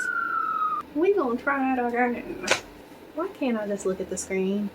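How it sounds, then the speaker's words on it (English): Sirens passing outside in the distance, a rising and falling wail under someone talking up close, partly masked by her voice. "Sirens."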